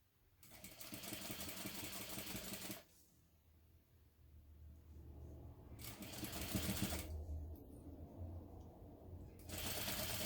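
A home sewing machine fitted with a super narrow presser foot stitches a fabric hobo bag's bottom panels in three quick bursts of rapid, even whirring, with quiet pauses between runs and no talking.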